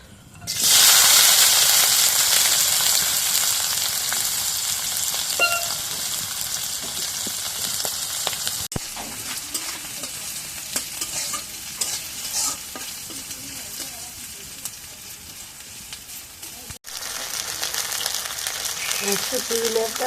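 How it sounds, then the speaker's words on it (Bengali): Garlic and chili dropped into hot oil in a pan, a loud burst of sizzling that settles into a steady crackling fry with stirring scrapes and a brief cut partway through. "এখন কড়াই তেল দিই রসুন মরিচ দিই তেলের মধ্যে"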